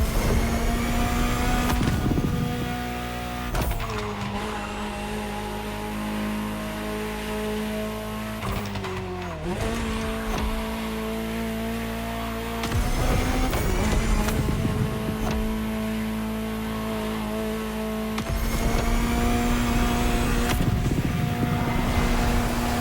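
A Ferrari supercar engine in a driving video game, loud and sustained, with the revs climbing and dropping through repeated gear shifts and a steady high-pitched whine, and no talking.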